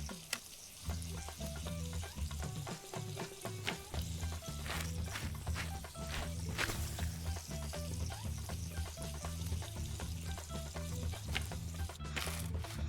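Onions and chilies frying in ghee in the cooking game Venba, a steady, close sizzle running the whole way under a gentle melodic music score, with no one speaking.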